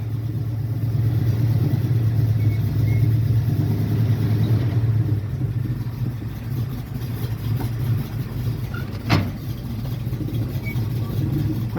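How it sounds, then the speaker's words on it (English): A revived Little Red Express clone truck drives off, its engine giving a steady mid-pitched rumble from inside the cab, with one brief clunk partway through and no talking. "take it out on a little spin real quick and see if it'll actually run and drive and stop"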